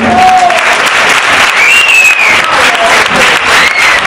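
Loud, sustained applause from a circus audience in a hall, steady dense clapping throughout with a few whistles rising over it.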